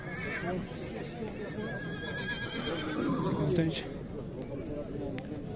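A horse whinnies at a busy horse market in Nookat, rising briefly above a dense crowd of talking voices and clattering hooves, with people conversing throughout.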